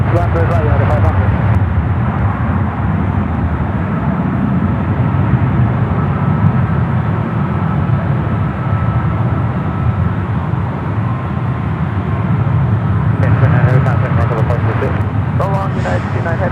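United Boeing 787 Dreamliner jet roaring at San Francisco airport, a loud sustained rumbling engine drone throughout, with radio chatter and voices talking over it.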